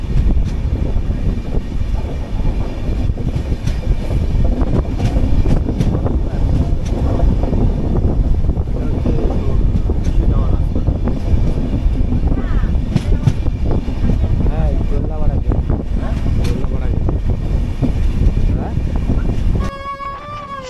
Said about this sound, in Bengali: এই জলদাপাড়া জাতীয় উদ্যানের মধ্য দিয়ে আমাদের গাড়ি ট্রেন ছুটছে